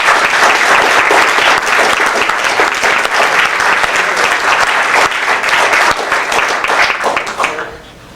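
A retirement party audience applauds a retiring employee for her 34 years of service: loud, dense clapping from many hands, sustained and steady for about seven seconds before tapering off quickly at the end.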